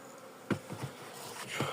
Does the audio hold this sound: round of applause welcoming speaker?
no